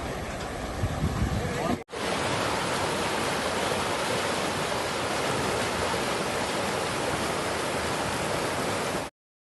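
Sutlej river floodwater at Firozpur rushing fast through a broken embankment: a loud, steady, close roar of churning water, cut off for an instant near the start before surging on unbroken.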